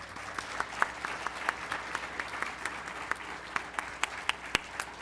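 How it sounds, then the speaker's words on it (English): An audience gives a round of applause at a business investment meeting. Steady, fairly quiet clapping with crisp individual claps continues for several seconds without speech. "if we could just take 1 second and give them a round of applause,"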